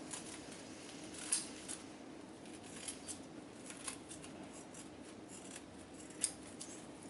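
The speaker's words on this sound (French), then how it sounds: "On va couper juste en dessous de la pince." Scissors snip through material just below a sewn dart, making quiet, sparse clipping sounds with small crisp snaps spaced irregularly over a soft background hiss.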